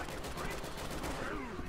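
Muffled gunfire in the video game Resident Evil 6 rattles in a dense, continuous burst under a noisy game mix, with voices faintly present.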